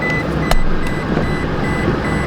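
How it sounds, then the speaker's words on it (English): A truck's brake failure warning alarm beeps steadily as a high tone, heard up close over a constant engine rumble during a winching recovery in a blizzard. "Brake alarm."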